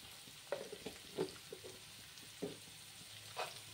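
Bitter gourd pieces with salt cook in oil in a pan, a faint low sizzle broken by a handful of soft scraping stirs and clinks.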